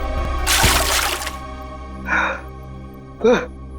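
Cold water is splashed onto a person in a CID crime drama scene, a loud broadband burst lasting about a second, followed by two short shouts or gasps from the drenched person.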